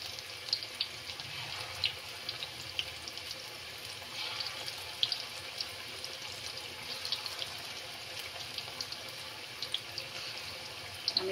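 Onion pakora fritters deep-frying in hot oil, a steady soft sizzle and bubbling with small crackles and pops, heard close and alone.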